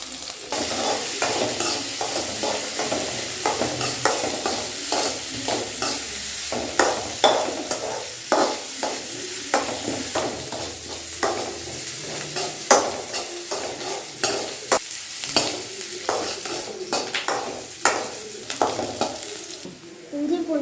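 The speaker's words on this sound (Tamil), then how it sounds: "எண்ணெய் பட்டை லவங்கம் ரெண்டு போட்டுக்கலாம் வெங்காயம் போட்டுக்கலாம் கறிவேப்பிலை போட்டுக்கலாம்" Cinnamon, cloves, onion and curry leaves frying in hot oil for a mushroom gravy, with a steady sizzle and frequent stirring scrapes and taps of a spoon against the pan throughout, close and unbroken.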